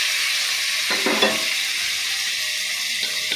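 Jackfruit pieces stir-fried in a wok of cooked spices, a steady loud sizzle with brief scraping stirs around the middle and no talking.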